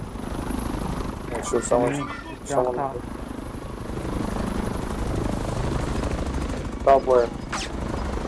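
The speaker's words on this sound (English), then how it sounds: "Is that a chopper on here?" A helicopter in Call of Duty Warzone, on Rebirth Island, drones steadily and close by with a continuous rotor roar, while players talk over it in short bursts.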